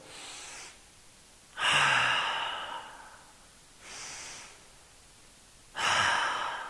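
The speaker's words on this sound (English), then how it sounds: "let's do 2 full breaths here" Deep, slow breathing during a veterans' yoga session, two full breath cycles with softer inhales alternating with longer, louder exhales, close and alone without talk.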